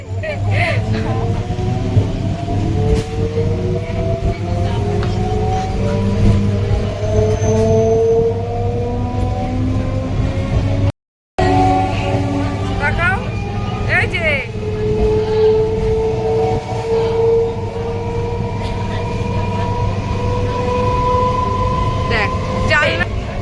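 Inside a nearly empty moving passenger train, a steady low rumble carries gliding motor whines that rise and fall, with one brief dropout midway.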